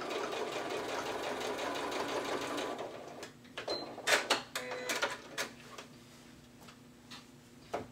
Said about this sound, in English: So I'm going to go back over it one more time.